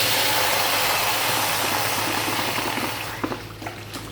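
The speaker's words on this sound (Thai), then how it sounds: "ก็เทน้ำลงไปเลยนะครับ เทน้ำลงไปเลย" Water rushing and hissing steadily into a pot of sautéed onions at close range, thinning out toward the end to a few drips and small knocks.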